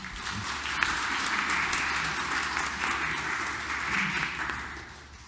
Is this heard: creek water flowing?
no